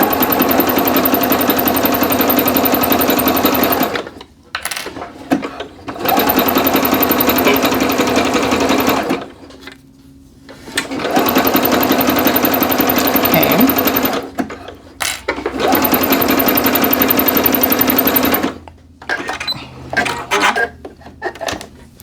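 A Singer sewing machine stitches jogger fabric pieces together in loud, fast runs of several seconds each, separated by brief pauses and small handling clatters, close to the microphone.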